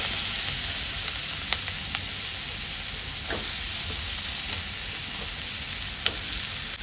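Sliced radish tipped into hot oil for a quick mulangi bele saru sizzles in a steady, close, even hiss, with a few sharp pops and spoon taps scattered through; no one speaks.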